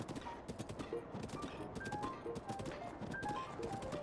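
A large horse's hooves clip-clop in a quick, steady rhythm in Zelda: Breath of the Wild, with soft game tones and ambience behind them.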